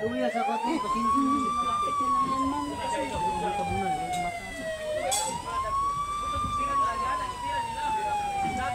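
An ambulance siren wails loudly and close in smooth rising and falling sweeps, with a brief reset midway, over engine rumble at an emergency response competition, with faint talk in the background.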